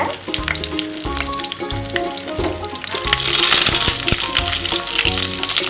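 Squid sizzles and crackles in hot oil in a pan, producing a loud continuous frying hiss with rhythmic rattling bursts as the pan is stirred or shaken. No one speaks.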